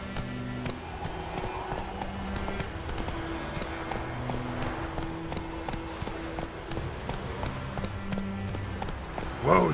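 Roach the horse gallops in The Witcher 3, a steady run of clip-clop hoofbeats carrying loud and close across the whole stretch amid game ambience, with no talk over it.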